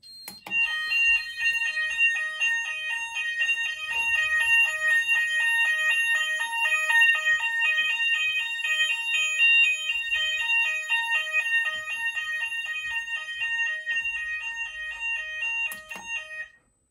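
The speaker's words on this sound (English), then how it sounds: "what the system sounds like in Hochiki-Fulleon Alternating" Hochiki-Fulleon alternating fire alarm sounder on an Apollo XP95 Discovery system under test, a loud steady two-tone warble switching rapidly between pitches for about sixteen seconds, then stopping abruptly.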